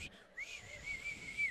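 A voice imitates a strange uncontrolled whistle, a thin, steady high whistle held for over a second with slight wavering, fairly faint and alone.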